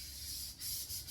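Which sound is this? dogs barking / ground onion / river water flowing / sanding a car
sanding a car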